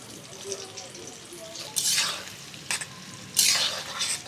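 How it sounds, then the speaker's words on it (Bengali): Chicken pakora frying in hot oil, a steady soft sizzle with spoon stirring and a couple of louder scraping bursts close by; no talking. "একইভাবে বাকি চিকেনগুলোকেও ভেজে নেবো"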